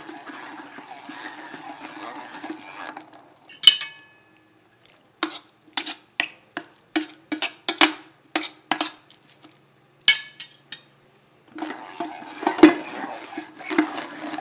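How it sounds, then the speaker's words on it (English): Hand-cranked food mill pressing fresh tomatoes in a home kitchen, a series of sharp metallic scraping clicks in irregular bursts, framed by softer rustling at the start and end. "So sometimes when you're using a food mill, you have to go the opposite direction and then go back"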